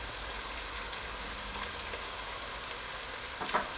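Mint and green chillies frying in masala for a dhaba-style dal chana fry give a steady, moderate sizzle throughout, with a brief louder crackle near the end.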